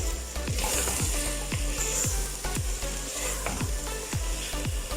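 Finely chopped potatoes sizzle steadily in a pan for potato-spinach curry while a spoon scrapes and stirs in a regular rhythm, close up and with no talk.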